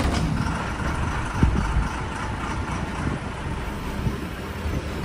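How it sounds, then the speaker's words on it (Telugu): An APSRTC super luxury bus of the Kurnool depot idles close by at a Dornala roadside stop, a steady engine rumble with road and traffic noise around it and a brief louder thump partway through. "ఇదే మనం ఎక్కిన బస్సు, సూపర్ లగ్జరీ"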